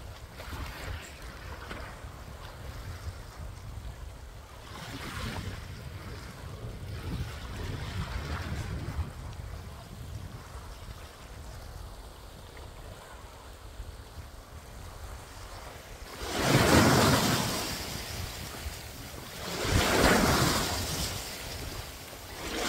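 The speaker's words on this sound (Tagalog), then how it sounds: "Nag-swimming na ako kasi ang init ng pakiramdam ko, so lumusong ako sa dagat." Sea waves wash in while someone swims in the sea on a hot, sunny day, with a steady churning wash and two louder surges breaking near the end, partly buffeted by wind on the microphone.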